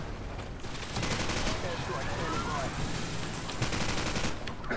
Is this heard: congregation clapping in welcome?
no